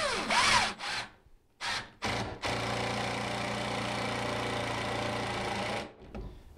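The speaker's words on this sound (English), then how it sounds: "So now I'm good to put a screw in over there." A power drill or driver runs steadily for several seconds driving a screw while a bathroom vanity is being installed, preceded by a few short bursts of the motor, loud and close with no talk.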